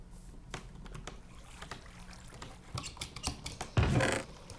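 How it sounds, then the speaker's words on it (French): Computer keyboard typing, scattered quick clicks and clacks at close range over a faint background hiss, ending in a louder burst of key presses. "Désolé pour mon clavier. J'espère que ça vous cause pas vraiment de problème."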